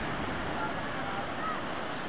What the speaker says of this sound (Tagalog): Lumalaki alon, no?